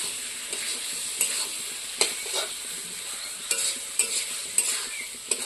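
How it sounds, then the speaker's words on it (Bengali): A paneer mixture is sautéed and stirred in a hot pan, with a continuous frying sizzle underneath. Repeated scraping strokes from the spoon land at an uneven pace, close and moderately loud. "আর একটু সুন্দর করে কষিয়ে নেবো"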